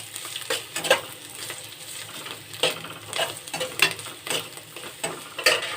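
Fried onion and coriander leaves sizzle steadily in a pan, with a spatula scraping and stirring in irregular clicks close by and no talking.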